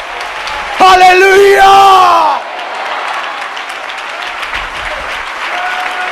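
Congregation applause at a church service, a loud burst with a shouted cry over it, then settling into steadier, softer clapping that carries on to the end.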